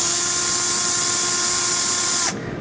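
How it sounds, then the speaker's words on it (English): A Bosch cordless drill whirs at a steady high pitch, close up, then winds down abruptly near the end. "It's Bosch drill."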